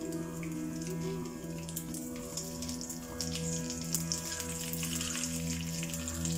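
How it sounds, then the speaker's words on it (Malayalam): Mustard seeds and dried red chillies splutter in hot oil, a dense continuous crackle with scattered sharp pops heard up close over a steady background hum. "അപ്പൊ നമ്മുടെ കടുകൊക്കെ പൊട്ടി തുടങ്ങി."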